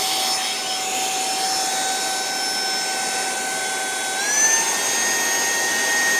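A small AliExpress mini car vacuum cleaner runs with a steady high-pitched whine, its motor tone stepping up in pitch partway through as the power setting changes, close and loud with no talk.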